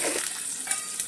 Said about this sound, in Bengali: আলুটাকে লম্বা লম্বা কেটে নিয়েছি, সেটাকে ভেজে নেব।